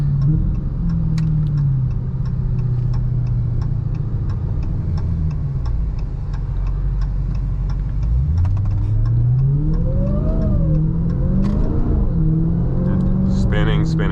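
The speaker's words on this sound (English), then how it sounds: "Spinning even in 3rd gear, but that's a slippery surface." A Dodge Charger Hellcat Widebody accelerates with its tires spinning on a slippery surface, the engine droning loudly from inside the cabin and the revs rising and falling, with someone talking over it.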